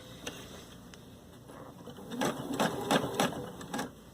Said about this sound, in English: So that's sewing it around.